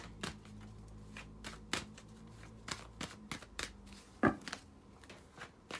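Oracle cards are shuffled and drawn by hand, with a run of crisp, close riffling flicks and snaps at an uneven pace and one louder slap near the end, with no voices.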